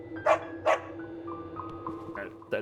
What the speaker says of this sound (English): That's a dog, I guess.